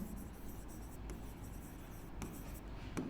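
Pen scratching on paper while solving a Class 10 arithmetic progressions problem, a steady soft scribbling with a few sharper strokes, close and quiet, running alone without talk.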